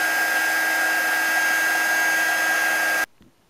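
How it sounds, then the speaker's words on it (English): Embossing heat gun blowing hot air while melting embossing powder on a craft belly band: a steady, close whirring hiss that runs evenly for three seconds, then stops sharply, leaving quiet handling noise. "Just move your embossing gun, your heat tool, right along as it melts."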